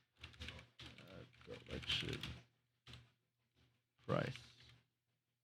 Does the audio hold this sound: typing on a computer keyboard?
yes